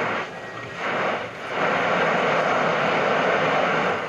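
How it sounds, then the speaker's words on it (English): A VPE ultrasonic leak detector, used for finding refrigerant leaks along tubing, plays its signal through a speaker as a broad rushing hiss that swells, dips, then holds loud and steady. "this is an ultrasonic leak detector for finding refrigerant leaks"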